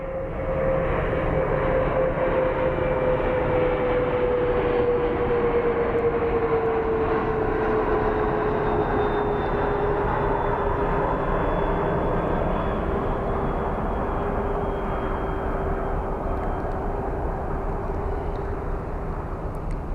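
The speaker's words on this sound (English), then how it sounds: "It's wild how these little planes always touch down so freaking smoothly" A small plane lands at Phoenix Sky Harbor airport, its engine a steady loud drone with a slowly falling whine throughout, heard at moderate distance.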